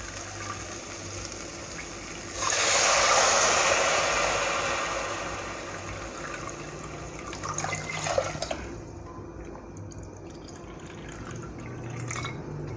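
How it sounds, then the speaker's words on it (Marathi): Two and a half cups of water poured into a pot of rice sautéed with spices for masoor pulao, a loud splashing gush that tapers off, followed by drips and faint clinks. "आता यामध्ये आपल्याला पाणी घालायचं आहे"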